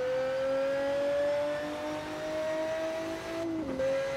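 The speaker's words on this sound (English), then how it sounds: "Let's give this a bit of a rev." A Pagani Zonda engine revs in Test Drive Unlimited 2, rising in a steady high whine with a clear climbing pitch that holds through the clip, then drops and shifts near the end.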